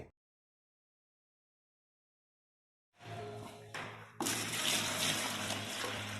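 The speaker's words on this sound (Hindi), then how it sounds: "एक किलो पुट्टी में 400 या 450 ml पानी मिलाएंगे" After about three seconds of silence, water begins pouring into wall putty powder, then surges into a louder, steady rushing splash that continues to the end.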